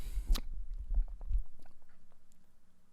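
Grapes being chewed close to the mic: wet, squishy bites and smacking in an irregular rhythm that thin out into faint smacks.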